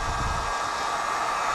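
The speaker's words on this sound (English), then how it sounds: "So, get our heat gun going," A heat gun warming window tint film blows a steady, close, whooshing roar with an airy whine, running throughout the short stretch without a break.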